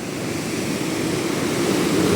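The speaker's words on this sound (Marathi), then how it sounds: "हे बघा त्या लाटा कुठे कुठे चालल्यात" Powerful sea waves roll in, heard as a loud, continuous wash of surf noise with no breaks across a couple of seconds.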